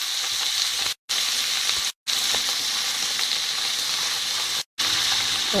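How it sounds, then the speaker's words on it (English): Capsicums cooking in a pan for chilli paneer give a steady, loud, close sizzle and crackle that runs on without pause, broken only by a few brief cuts. "capsicums have been cooking for a few minutes"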